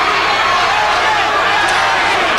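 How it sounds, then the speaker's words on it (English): A boxing arena crowd roars in a dense, steady wall of noise, loud and close, with the sound of chanting for a fighter folded into the continuous din. "They all chant Larry, Larry."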